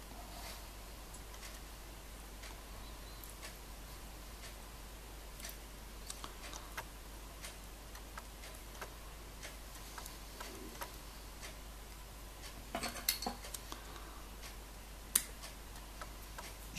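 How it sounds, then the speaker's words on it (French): Excess raffia being trimmed during a craft repair, faint irregular snips and clicks over a quiet background, with a small cluster of sharper cuts near the end. "Je coupe l'excédent."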